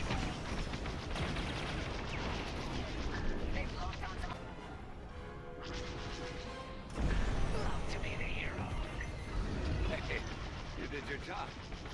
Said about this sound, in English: they are just shooting at me 24/7